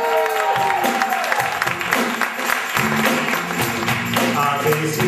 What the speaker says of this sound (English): big round of applause for the queen of the backbeat